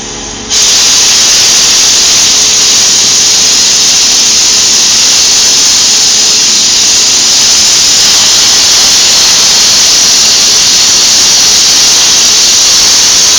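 An oxy-fuel cutting torch slices through metal with a loud, steady roaring hiss that starts abruptly and continues unbroken throughout, with no talking.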